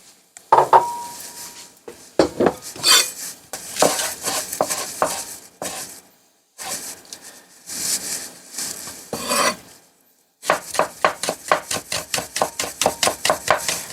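Green onion being finely chopped with a knife: scattered cutting taps at first, then a fast, steady run of crisp, evenly spaced chops near the end, close up and with no talking.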